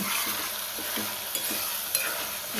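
Vegetables and masala being stirred in hot oil for a Telugu-style cucumber, tomato and dried fish curry, a steady close sizzle with repeated scraping strokes of the spoon, no voices.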